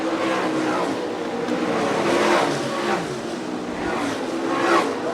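Sprint cars circle Fremont Speedway in Ohio in heavy lap traffic during an All Star Circuit of Champions race, engines roaring steadily with rising and falling surges as cars pass, a commentator talking over the din.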